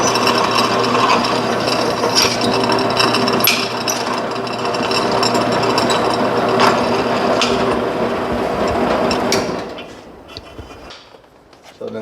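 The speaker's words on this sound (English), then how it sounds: "not clamping it and holding it by hand and using the drill to pretty much self-center it" A power drill whirs steadily while a Shimano GRX 1x chainring is held by hand to self-center, with ratcheting mechanical grinding that runs loud and continuous for about nine seconds before trailing off into quieter handling noises.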